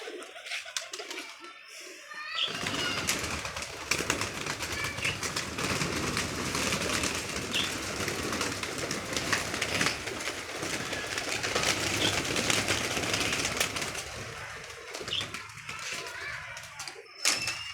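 Pigeons kept by a pigeon club coo softly in the background while people, including a child, talk nearby, with occasional knocks and rustling.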